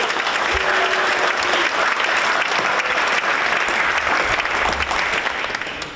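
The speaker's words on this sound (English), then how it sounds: "Let's give a huge round of applause for these three amazing advisors." An audience at a media arts center's 10th anniversary event claps loudly for three advisors. The applause is full and sustained and fades slightly toward the end.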